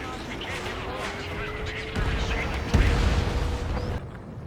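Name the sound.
LAGM long-range air-to-ground missile explosions in Ace Combat 7 video game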